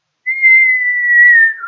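A person whistles one clear, sustained note that holds steady and slides slightly lower at the end, close and loud with no other sound.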